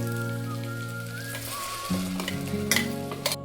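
Freshly ground spice paste hits a pan of fried tomato, a crackling sizzle under a steady tonal hum, with brighter spatters and stirring scrapes toward the end.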